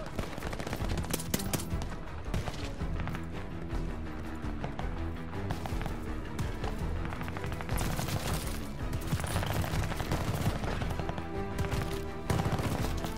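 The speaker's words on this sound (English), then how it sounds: "Why do you open fire?" Continuous battlefield gunfire in the Call of Duty: Vanguard campaign, with a German MP40 among the weapons, steady overlapping shots and machine-gun bursts under a thick bed of game music and ambience.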